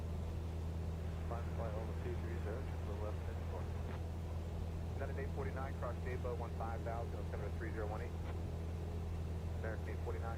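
A light propeller airplane accelerates for takeoff in Microsoft Flight Simulator, its steady engine hum running throughout while someone talks over it.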